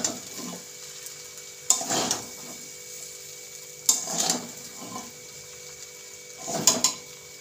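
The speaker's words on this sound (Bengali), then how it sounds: "এবার আমি ভালোভাবে আবার মিক্স করে নেব, সব কিছু ভালোভাবে মিশিয়ে নেব।" Egg chicken chowmein gets stirred and tossed in a pan, with three bursts of scraping and clattering spaced a couple of seconds apart over a soft background sizzle.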